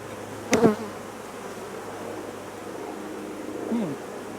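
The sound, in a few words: honeybees buzzing at open hive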